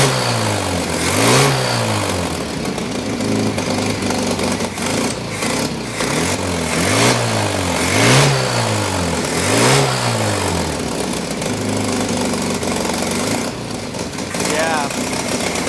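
A 1983 Toyota barn-find engine, abandoned for 15 years, runs steadily and is revved in repeated rising-and-falling bursts, loud and close, while people talk over it.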